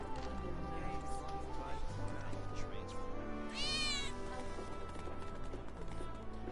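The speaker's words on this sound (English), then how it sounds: "I think one of Betty's cats might be nearby." In Final Fantasy 7 Remake a single short cat meow rises from a busy game soundscape of music, footsteps and ambient clatter, near but partly blended into the background.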